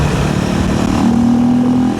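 A KTM 390 Enduro R single-cylinder motorcycle rides close by on greasy roads, its engine droning steadily with a rising tone as it pulls, loud and with no voices.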